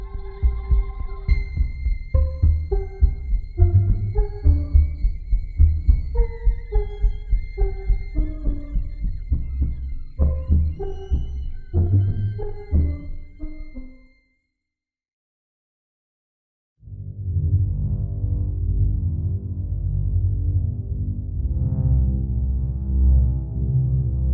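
A loud, harsh electrical buzz sampled from a device and heavily processed pulses in a rapid throbbing rhythm with tonal overtones, cuts out briefly, then returns as a dense, steady droning hum.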